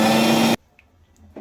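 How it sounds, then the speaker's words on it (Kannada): A kitchen mixer grinder whirs loudly as it blends coriander, ginger, garlic and onion into a paste, then cuts off abruptly, leaving near silence with a couple of faint clicks. "ಈಗ ನಾನು ಪೇಸ್ಟ್ ಮಾಡ್ಕೊಂಡ್ಬರ್ತೀನಿ. ಕೊತ್ತಂಬರಿ, ಶುಂಠಿ, ಬೆಳ್ಳುಳ್ಳಿ, ಈರುಳ್ಳಿ ಇದನ್ನು ಪೇಸ್ಟ್ ಮಾಡ್ಕೊಂಡ್ಬರ್ತೀನಿ"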